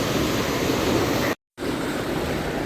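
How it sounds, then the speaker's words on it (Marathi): Waves at high tide on the Mumbai shore make a steady, loud, hissing wash of surf, broken by a brief moment of total silence midway, with no voices. "आता पाणी भरायची सुरुवात आहे, हाय टाईड चालू आहे"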